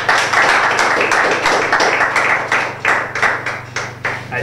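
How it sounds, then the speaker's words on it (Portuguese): A crowd claps and cheers for Gira MC stepping up at a live rap battle. Dense, sustained applause with sharp individual claps rises and falls over a steady low hum. "aplausos para a Gira MC"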